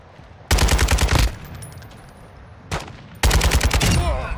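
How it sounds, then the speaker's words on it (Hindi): Two long bursts of rapid automatic gunfire in Call of Duty: Warzone 2.0 DMZ, loud and close, at a petrol pump, separated by a brief single shot and quiet gaps. "अच्छा है हम लोग गोली चलाते हैं पेट्रोल पंप में"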